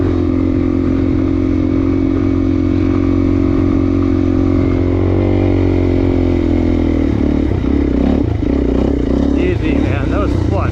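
A Suzuki DR-Z400 motorcycle engine drones loud and close while being ridden hard, its steady rumble rising and wavering as the rider revs through the gears, with wind buffeting over it throughout.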